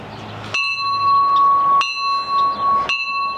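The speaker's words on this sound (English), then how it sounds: "This is a real Navy bell that my friend had in her backyard getting buried by dirt" A real Navy ship's bell aboard a pirate ship is struck three times at a slow, uneven pace. Each strike is loud and close and rings on with a long metallic tone.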